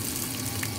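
Rice frying in a little oil in a pan, a steady close sizzle and crackle with no talking.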